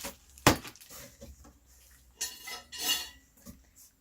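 A metal baking pan from a Sunbeam NutriOven CO3000 convection oven being unboxed and handled: one sharp clank, then scattered lighter knocks and scraping rattles, close and alone without talk.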